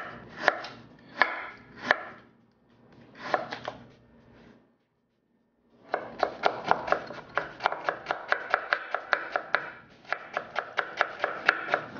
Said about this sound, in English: Cut it into really thin strips like matchsticks.